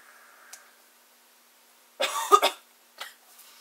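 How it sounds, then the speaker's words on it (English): A couple of harsh, close coughs in quick succession after near silence, from a smoker's throat hit while vaping at 60.5 watts, followed by a fainter short cough. "There's the dreaded coughing I was talking about."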